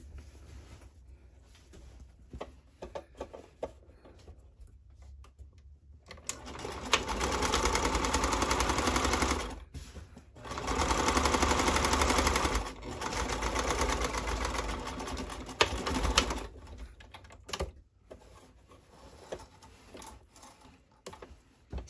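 A sewing machine stitches a pocket seam on boxer shorts in several bursts of steady whirring with pauses and handling noises between runs, close and moderately loud.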